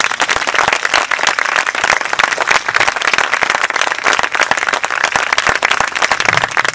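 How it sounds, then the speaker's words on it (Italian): Audience applause at an outdoor youth band concert in Cassine, a loud, dense and sustained burst of many hands clapping throughout. "Facciamogli ancora un applauso."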